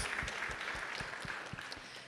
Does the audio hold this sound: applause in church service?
yes